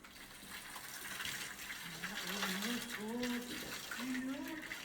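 Water gushes steadily from a hose or tap while a sports horse is bathed outdoors on a chilly spring day, with a voice talking over the constant rushing flow.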